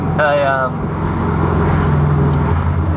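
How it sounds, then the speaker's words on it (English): A McLaren MP4-12C pulling out on a Long Island street, a steady engine rumble and road noise close by, with someone talking over it. "Pulling out here is a McLaren MP4-12C."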